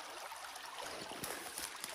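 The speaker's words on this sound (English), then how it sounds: "Water keeps coming from the fields, from the lands." Water draining off farm fields at a beaver dam rushes and trickles in a continuous, close, gurgling flow with no voices over it.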